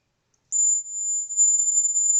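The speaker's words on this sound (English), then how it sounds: "I connected buzzer in place of LED." A small electronic buzzer wired to a NodeMCU board in place of an LED gives a steady, piercing single-pitch tone that starts abruptly after a brief silence and holds continuously, close and clear.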